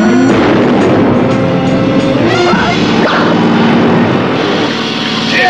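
A tear gas gun fired as a radio drama sound effect: a loud, sustained roaring blast with a booming, rumbling body and no voices.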